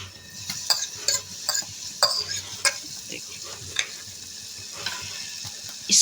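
Chopped capsicum sizzles in about a tablespoon of oil in a pan, with a steady frying hiss broken by repeated stirring scrapes and clinks of a utensil against the pan.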